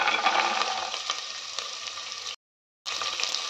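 Onions and fresh beans frying in a pan with a steady, close sizzle and crackle, broken by a brief silent gap before the sizzling resumes.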